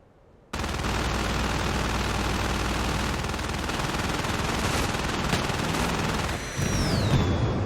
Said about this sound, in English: And now they're shooting at us.